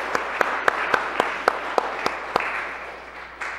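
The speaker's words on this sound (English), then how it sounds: "let's give them just a big round of applause for our appreciation" A Lutheran church congregation applauds in a rhythmic unison beat, about nine sharp, evenly spaced claps over a wash of scattered clapping, fading out at the end.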